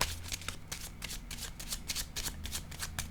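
Playing cards are shuffled by hand in a rapid series of crisp riffling bursts, close and clear, about a dozen quick flicks in a steady rhythm with no talk over them.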